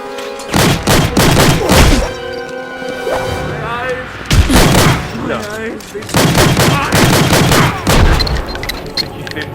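Gunfire from the video game Enter The Matrix rings out in loud, close bursts of rapid shots with booming impacts, repeated several times with short gaps between volleys.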